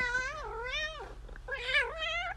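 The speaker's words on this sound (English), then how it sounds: "So this is my cat Simba, and he will not let me leave" A pet cat meows insistently in long, wavering, drawn-out cries, three or four calls in close succession, near and loud against a low steady hum.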